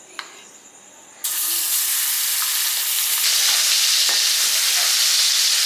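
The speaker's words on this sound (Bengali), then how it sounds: "তেল গরম হয়ে গেছে, এবার চিংড়ি মাছটাকে দিয়ে দেব।" Prawns dropped into hot oil in a heated kadai burst into a sudden, loud, sustained sizzling hiss that stays steady and close.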